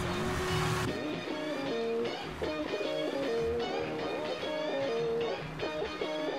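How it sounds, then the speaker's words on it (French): Car tires squealing in the video game GTA 5, a loud, sustained screech with a wavering, stepped pitch over engine roar, close and continuous after an opening burst. "Alors fais crisser les pneus"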